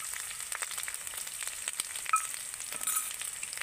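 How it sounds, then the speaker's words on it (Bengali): Ground spices, among them chilli powder, coriander powder and salt, fry in a pan with a soft, steady sizzle and occasional light scrapes and taps of stirring, fairly quiet and close. "মশলাগুলো ভালো করে কষিয়ে নিয়েছি"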